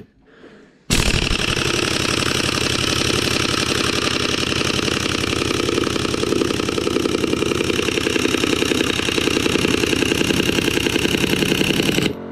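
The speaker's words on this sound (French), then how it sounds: "le compresseur il se enclenche déjà" After a quiet second, an air compressor abruptly kicks in during a pneumatic impact wrench test and runs loud and steady, a dense mechanical drone with rapid pulsing that continues unbroken to the end.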